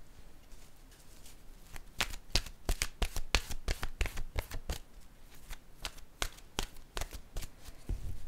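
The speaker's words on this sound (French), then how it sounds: "Je vais piger une carte maintenant de mon oracle de l'âme intuitive." A deck of oracle cards is shuffled close by, giving a run of crisp, irregular slaps and flicks that quicken and slow in uneven bursts against a quiet room.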